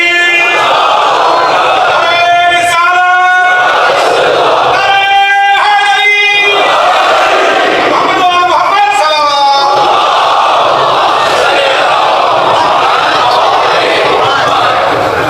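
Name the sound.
crowd reciting salawat together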